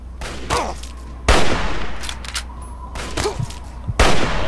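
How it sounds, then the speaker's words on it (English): Hunting rifle fire in Fallout 3, several loud, sharp shots spaced about a second or more apart, each with a short echoing tail, heard alone without talk. "Let's use the hunting rifle."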